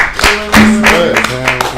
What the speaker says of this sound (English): We could clap it right here.